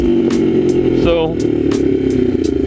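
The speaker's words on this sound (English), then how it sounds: "we get a little bit of popping up top, nothing too bad." A Yamaha XS400 motorcycle fitted with a 6 Sigma jet kit revs close by with a steady, throaty engine drone and a few faint pops riding on top.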